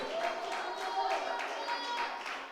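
Church congregation applauding: steady, dense hand clapping from many people, moderately loud and continuous throughout.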